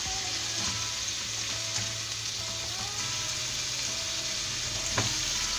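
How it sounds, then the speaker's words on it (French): Food sizzles steadily in a hot pan while being stirred and spread for a sandwich, producing a continuous frying hiss with occasional utensil scrapes and a sharper knock near the end, with no talking. "Alors nous sommes en cuisson."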